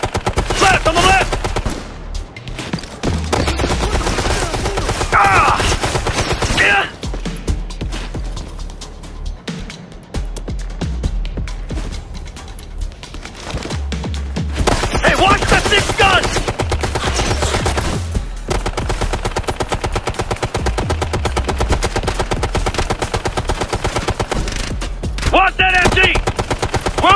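Sustained machine gun fire in the Xbox 360 shooter Ghost Recon Future Soldier, loud bursts of rapid automatic shots with brief lulls between volleys across the whole stretch, with occasional voices mixed in.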